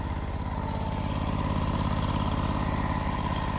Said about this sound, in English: We had to pull out a real welder for the job.